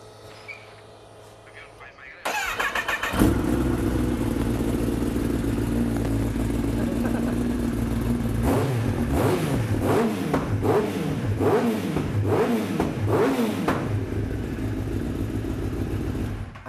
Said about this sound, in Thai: คุณต่อใช้อะไรอยู่ครับ ฮาร์เลย์ครับ